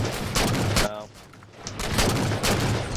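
Grenade explosion in Halo 4, heavy booming blasts and rumbling battle noise, loud and close, with someone talking over the combat.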